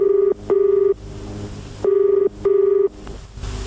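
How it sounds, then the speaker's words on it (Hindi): An office telephone rings for an incoming call in a radio comedy sketch: two loud, clear double-burst electronic rings with short pauses between them, and no voices. "सर आपका फोन है सर, घर से।"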